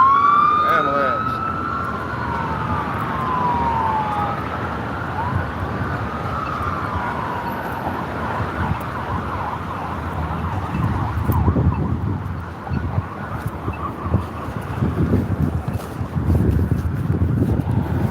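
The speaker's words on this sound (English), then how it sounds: "Ambulance." An ambulance siren wails and sweeps up and down as it passes, loud at first and then fading under wind noise and low street rumble.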